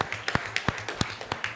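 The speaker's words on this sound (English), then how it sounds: "Give a round of applause please." Audience applause at a junior insurance awareness quiz grand finale: a sparse, uneven run of claps with distinct sharp hand strikes, moderately near and fairly quiet, with no talking.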